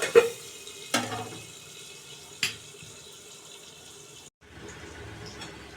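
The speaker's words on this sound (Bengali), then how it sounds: "একটু লবণ দিয়ে দিয়েছিলাম একটু ভাজা ভাজি হোক আলুটা" Salted potato pieces fry in oil with a steady hiss, broken by three sharp clacks of a utensil against the pan before the sizzle drops and then goes on more quietly.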